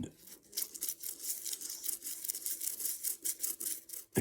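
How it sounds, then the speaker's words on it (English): Toothbrush scrubbing up and down on a surface being cleaned after acetone, a close, steady run of rapid bristly rasping strokes with brief pauses, no voices. "I use a toothbrush"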